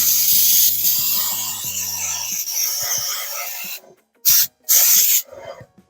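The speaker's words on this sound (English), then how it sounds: "we are spraying the pan 9x13 with a non-stick spray or one with flour" Non-stick cooking spray hisses continuously onto a 9x13 baking pan for a few seconds over a brief voice, then gives way to a couple of short, sharp bursts of spraying.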